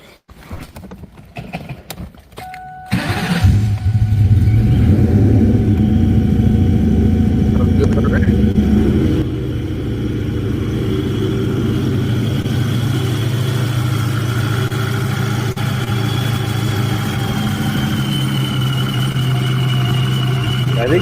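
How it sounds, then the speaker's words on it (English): A powerful supercharged muscle car engine idles loudly and steadily after a few sharp bursts at the start, with a high supercharger whine riding over the deep rumble. "I was going to say, I hear a supercharger"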